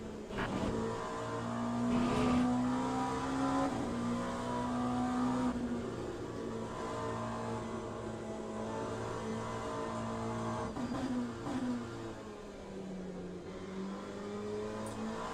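LMP2 prototype race car engine in the racing sim Le Mans Ultimate, a steady sustained drone with pitch rising and falling through gear changes, fairly loud and continuous with no talk.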